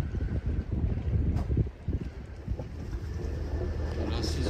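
A sailboat's engine runs at dawn with a steady low rumble while at anchor in the Greek Cyclades, wind buffeting the microphone on top.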